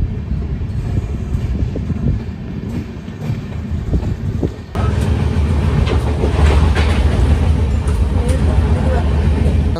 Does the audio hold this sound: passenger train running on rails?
yes